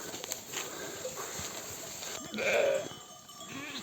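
A sheep bleats once, moderately close, over a steady outdoor hiss with faint rustling around it, on a highland pasture in Mudurnu, Bolu.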